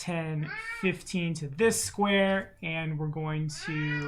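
Achilles the cat meows repeatedly, a string of loud, insistent cries overlapping and weaving through a man's continuous speech nearby.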